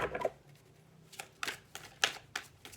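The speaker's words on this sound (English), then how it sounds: "And give me 3 nice shuffles." Tarot cards being shuffled for a Capricorn reading: a few separate riffling bursts spaced about half a second apart, close and fairly quiet, with no talking.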